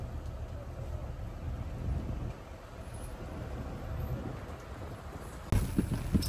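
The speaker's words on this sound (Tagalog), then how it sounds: "Abutin ka ng ganitong malakas na ulan tsaka ng hangin." Heavy rain and strong wind lash a fishing boat at sea, a steady close broadband rush that swells louder and harsher in the final second.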